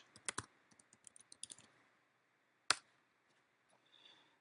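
Quiet computer keyboard keys being tapped in a short burst of quick clicks, followed by a pause, a single louder sharper click, then near silence.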